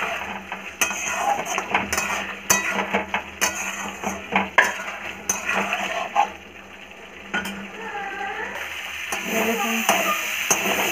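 Food is sautéed in a pan with repeated clinks and scrapes of a utensil against the metal over a light sizzle, the strokes coming in irregular bursts, close and moderately loud, with no talking.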